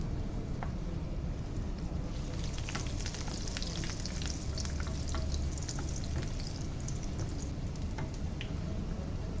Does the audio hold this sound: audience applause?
no